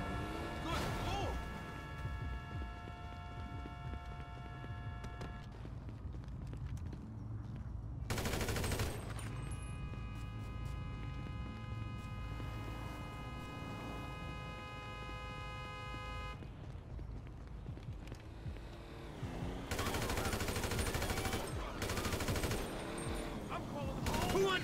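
Gunfire in GTA V, with rapid bursts of shots crackling over a steady in-game backdrop and tonal sounds, several louder volleys breaking in at intervals.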